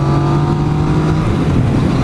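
A 2014 Yamaha FZ-09/MT-09 motorcycle engine pulling hard under acceleration on a test ride at Clearlake, California, a loud steady drone with a sustained tone that climbs gradually, mixed with wind rush.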